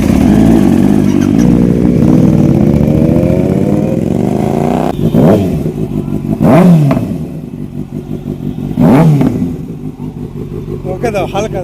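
A Triumph Daytona 675 motorcycle engine revs hard on a Sunday ride, a long rising climb followed by several sharp throttle blips, loud and close, with a voice talking underneath.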